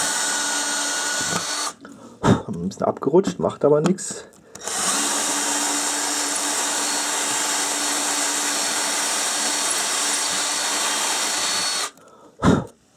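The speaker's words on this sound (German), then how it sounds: "indem ich hier den Bohrer immer so hin und her bewege." A power drill whines steadily into wood for several seconds while being moved back and forth, broken by a short spoken remark, then stops and briefly restarts.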